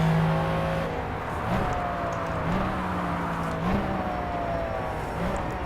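McLaren F1 engine in Project CARS at Le Mans, a fairly quiet in-game drone that climbs in pitch through repeated rising revs and upshifts, steady and unaccompanied by talk.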